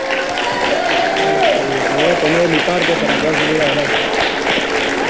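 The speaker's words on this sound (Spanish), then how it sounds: "Le damos un aplauso" Studio audience on a Peruvian television talk show breaks into steady, sustained applause that fills the room while a voice keeps talking over it.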